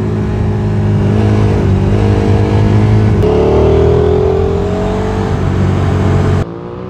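A KTM motorcycle on a wet race circuit at Alès, its engine loud and close, holding a steady drone before rising in pitch as it accelerates, then dropping suddenly near the end.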